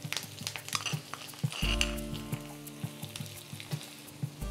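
Tempering of mustard seeds, cumin, dried red chillies and curry leaves crackling in hot oil for rasam, with quick popping spatters and light clinks of a utensil over a steady sizzle, close and without talk.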